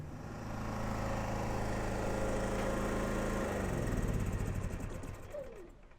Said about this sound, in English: I can throw a propane cylinder on this and run it until we can go get more fuel